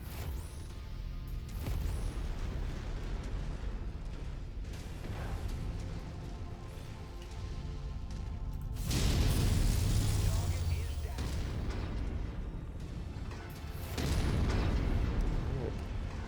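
Heavy cannon fire from a mech in the MechWarrior 5 video game, booming blasts rising over a continuous rumbling battle din, with someone talking throughout.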